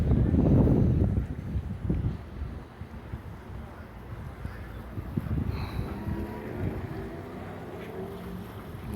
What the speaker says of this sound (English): I hear a ship coming in, or a boat, I should say.